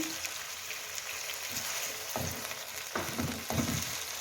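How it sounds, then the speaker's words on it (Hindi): Chicken sizzles and fries in a karahi over a medium flame, a steady broad hiss with a few louder stirring scrapes and spatters toward the end. "मीडियम फ्लेम पे इसको भूनेंगे।"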